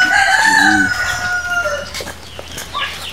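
Rooster crowing close by in a Philippine countryside yard, a long loud cock-a-doodle-doo followed by chickens clucking and scattered short calls, no voices.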